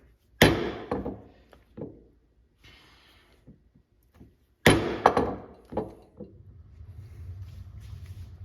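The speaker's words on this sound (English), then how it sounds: "I'm going to put my stitching holes in using my stitching chisel" A stitching chisel is struck into leather to punch stitching holes for the side panels of a leather messenger bag, giving two loud, sharp impacts with a few lighter taps after each, close by and with no talk.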